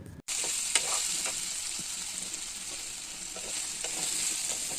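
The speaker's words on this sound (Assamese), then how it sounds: "মাংসখিনি এতিয়া ভালদৰে লৰাই ফ্ৰাই হ'বৰ কাৰণে ঢাকনা এখন মাৰি অলপ সময়ৰ কাৰণে থৈ দিম" Pigeon meat fries in a covered pan, giving a steady close sizzle that runs throughout, with a few faint clicks and stirring knocks and no talk.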